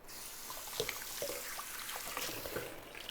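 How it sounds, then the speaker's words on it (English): Hands rinsed under a running kitchen tap, a steady close wash of water with small splashes and drips, no talking. "rinse my hands"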